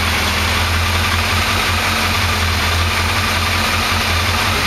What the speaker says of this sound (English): I think you can probably hear the way the engine's running. It's not running as cleanly.